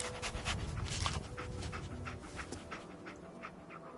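A dog pants steadily in Fallout 4, quick breathy huffs in a continuous rhythm, close and fairly quiet, with no talk over it.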